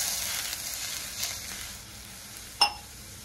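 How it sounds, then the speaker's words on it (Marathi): Tamarind and dates simmer in a pan for sweet pani puri chutney, giving a steady close hiss and sizzle with one brief clink near the end and no talking. "आता मी चिंच आणि खजूर शिजवून घेते।"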